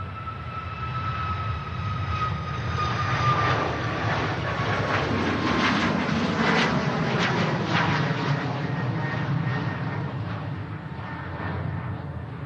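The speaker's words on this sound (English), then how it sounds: "Right now on the departure roll. This is the aircraft heading to Milan." Passenger jet on its departure roll at Manchester Airport, bound for Milan, a loud broad engine roar with a whining tone that builds and holds steady, heard from a distance.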